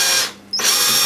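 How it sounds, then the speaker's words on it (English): A handheld power drill bores into a kitchen worktop, its loud, close whining roar dipping briefly before surging back at full speed. "hold the drill like that and guide it down"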